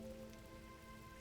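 Steady rain falling across a surface in the video game GRIS, a dense, even patter that holds throughout without any voice over it.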